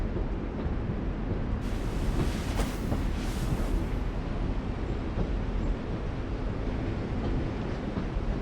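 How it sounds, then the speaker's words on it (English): Train ambience from the video game The Walking Dead Telltale: The Final Season, a steady, dense mechanical rumble with a brief brighter, louder swell early on, continuous and unbroken with no voices. "You always pick the train."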